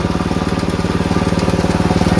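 A homemade machine shreds coconut husk into fibre, running loud and steady with a rapid, regular pulsing drone, close by and without voices.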